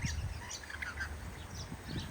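Australian parrots squawk while feeding on oranges: a short burst of scattered, fairly faint calls and chatter from a small flock, with no voices.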